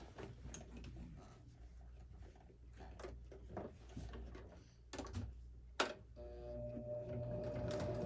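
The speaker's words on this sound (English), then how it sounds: "let's sew her up" A sewing machine stitching a fabric Sew Together Bag, heard faintly as short mechanical runs and ticks with clicks and a knock in between, then a steadier stitching drone at the end.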